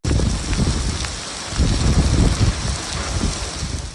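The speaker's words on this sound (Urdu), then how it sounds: "ایک جانب طوفانی بارشوں کا وار،" Heavy stormy rain pours down steadily in a continuous loud wash, with gusty wind noise on the microphone swelling and easing throughout.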